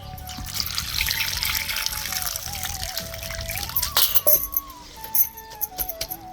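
Water pours and trickles over finely chopped papaya set to soak for homemade tutti-frutti, a close splashing stream that breaks into brief dribbles and drips near the end.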